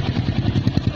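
A Yamaha R15 motorcycle fitted with a Proliner TR1 long exhaust and a dB killer insert idles up close, giving a steady, loud, muffled burble with a pulsing low rumble.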